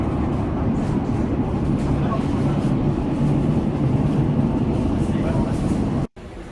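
London Underground train bound for Abbey Wood via Canary Wharf, running with a steady, loud low rumble that fills the whole stretch before cutting out abruptly near the end.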